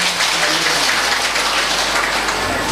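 Audience clapping throughout a Bhagwat Katha religious gathering at a temple in Lohaghat, a dense, steady patter of many hands at even loudness across the whole stretch.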